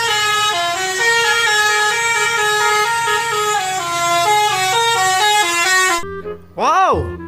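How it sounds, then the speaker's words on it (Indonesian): A toy telolet bus horn plays a loud, steady melodic tune of stepped tones for about six seconds, followed by a short rising and falling warble at the end. "Ada bus terolet"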